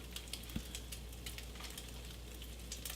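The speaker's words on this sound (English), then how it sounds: "I got some nice sizzle and some caramelization between my crumbled sausage and the onion" Crumbled sausage and onion sizzle steadily in a hot pan while caramelizing, a soft, continuous crackle and hiss that stays even throughout with no talking.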